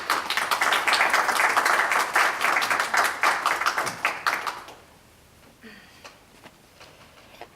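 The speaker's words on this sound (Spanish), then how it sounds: "Un aplauso para esta joven cubana." Audience applause at a PEN Club literary panel, steady dense clapping for about four seconds that then fades out into quiet room tone.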